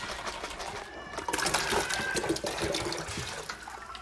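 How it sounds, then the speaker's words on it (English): A plastic milk collection jar from sheep milking is shaken in bleach solution, giving close, quick sloshing and splashing of liquid that swells after a second and continues in choppy bursts. "I just take my collection jar, shake it in the bleach solution"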